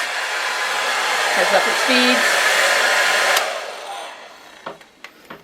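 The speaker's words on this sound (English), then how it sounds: "And yes, it is a powerful hairdryer." Powerful hairdryer in a cruise ship spa balcony cabin on the NCL Prima, a loud steady airy roar close by that switches off and winds down, followed by a few clicks and handling knocks.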